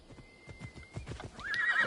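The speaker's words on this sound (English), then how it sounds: "It might be quicker to call a horse" A horse is summoned in the video game Assassin's Creed Odyssey: a steady run of clip-clop hoofbeats approaches, then a loud whinny rings out near the end, with no talking.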